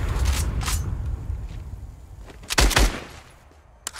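Bursts of video game gunfire from a new weapon ring out, with a sustained volley at the start, another sharp burst near the middle and a final short crack at the end, over a steady background.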